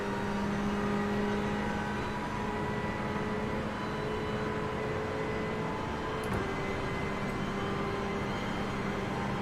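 A race car engine in the iRacing sim drones steadily while the driver brakes from about 200, a continuous near-constant whine and hum with no voices.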